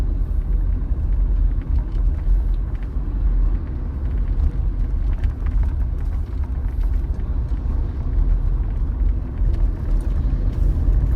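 Steady road traffic in Tagaytay rolls past as a continuous low rumble of car engines and tires, moderately loud and unbroken, with no voices over it.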